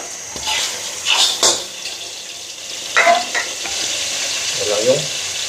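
Eel cooked adobo-style with garlic, onion, ginger, pepper and bay leaf in a pan outdoors: soft sizzling with scattered clinks and scrapes of stirring, plus brief watery splashes, close and fairly quiet.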